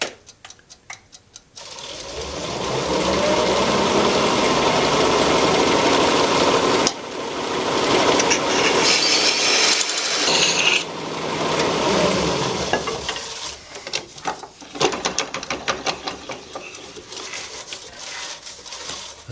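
A parting tool cuts through an end-grain plug on a wood lathe, a loud, steady scraping whir running for several seconds, easing briefly, then resuming before tapering off into quieter workshop sounds.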